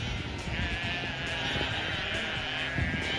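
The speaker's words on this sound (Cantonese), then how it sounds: "哇，好多羊啊！" Sheep bleating in a pen on a farm in North Wales over a steady rumbling background, a drawn-out bleat standing out against continuous low noise.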